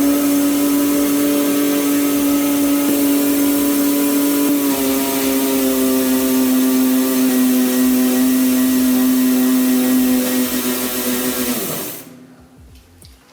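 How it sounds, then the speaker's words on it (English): Rear brake pads on an e-bike mounted on a rig are bedded in, producing a loud, steady mechanical whine and hum that dips slightly midway, then winds down and fades near the end. "So you have to put the bike on and starting bedding the brake pads."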